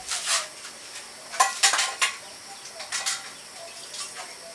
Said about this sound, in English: we're going to put it down and have our frying pan on the fire